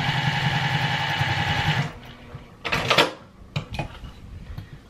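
A sewing machine stitches a fabric bowl cozy, running in a steady, loud whir for nearly two seconds before stopping, followed by a few clunks and rustles as the fabric is handled.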